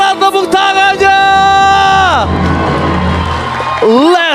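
An esports arena crowd at an MPL Indonesia match cheers, whoops and claps loudly, with an announcer's voice over the first part before a sustained roar of crowd noise.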